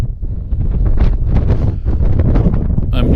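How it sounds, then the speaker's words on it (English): Strong hurricane-force wind roars at Meteor Crater, buffeting the microphone in a loud, continuous rumble with gusty surges and rustling, no pauses. "the wind is so strong it's going to almost blow me over in a second"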